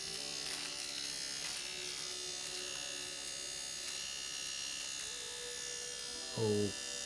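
A Nano tattoo machine runs with a steady high-pitched electric buzz, close and continuous, ending in a brief lower-pitched change near the end.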